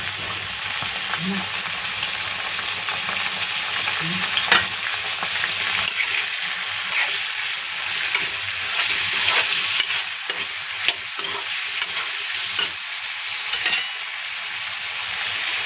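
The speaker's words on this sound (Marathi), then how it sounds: "बटर घेतलाय, बटाटा टाकलाय." Potatoes frying in butter in a pan, giving a steady close sizzle with stirring scrapes and occasional clicks throughout, loud and continuous without speech.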